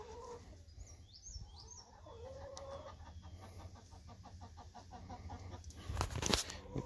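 Chickens cluck and call near a backyard chicken water setup, with short rooster-like squawks in the opening seconds, steady low clucking through the middle and a louder burst of flapping or scuffling near the end.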